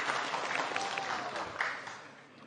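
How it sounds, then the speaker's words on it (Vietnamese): A studio audience at a Vietnamese televised quiz show final claps steadily in a brief burst of applause, bright and sustained, fading slightly toward the end. "hãy dành một tràng vỗ tay để động viên Việt Thái"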